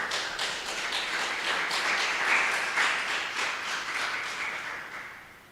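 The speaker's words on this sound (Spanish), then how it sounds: "Dale un fuerte aplauso al Señor" A church congregation claps for the Lord in a loud, dense run of individual hand claps. The applause swells to a peak midway, then tapers off toward the end.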